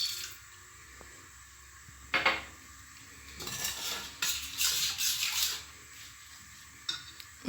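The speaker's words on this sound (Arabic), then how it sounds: "غادي نضيف شويه ديال الماء،" Water poured into a metal cooking pan while preparing a baked fish dish, heard as a few soft splashing and stirring bursts with some clinking of the pan, fairly quiet and alone.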